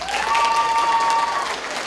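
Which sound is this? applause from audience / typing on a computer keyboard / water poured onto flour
applause from audience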